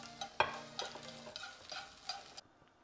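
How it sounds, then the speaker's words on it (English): Carrots coated in oil and garlic powder sauté in a pan, a quiet, close sizzle with scattered clinks and scraping stirs. "I'm gonna saute it."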